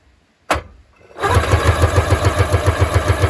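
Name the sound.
Sea-Doo XP 787 personal watercraft engine starting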